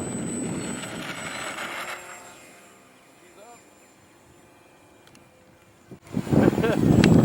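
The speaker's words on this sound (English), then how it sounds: "So I tried a cross-runway, crosswind takeoff." A 3D printed Eclipson TL Stream RC plane's motor roars loudly, fades to near quiet, then surges again for a crosswind takeoff across the runway, with wind noise around it.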